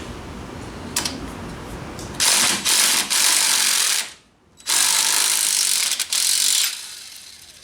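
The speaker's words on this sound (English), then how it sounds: "I'm going to actually remove the filler bolt first." Ratchet clicking while loosening the filler bolt on a Yamaha YXZ front differential, several close bursts of rapid metallic clicks separated by a brief pause.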